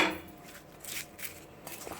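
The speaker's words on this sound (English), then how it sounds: "And stir, mix nicely." Mango pickle seasoning in sesame oil is stirred in a pot, giving a few soft scraping and clinking sounds of a spoon against the vessel, close and fairly quiet.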